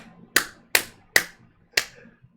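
Four sharp, loud hand claps ring out close by in an even, deliberate rhythm, each one a crisp smack with a short decay and quiet gaps between.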